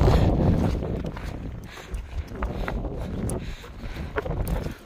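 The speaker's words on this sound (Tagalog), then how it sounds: "Malakas yung hangin." Loud, steady wind buffets the microphone with a deep rumble, rising and falling in gusts throughout, on a cold, foggy hill on Jeju Island in snowy weather.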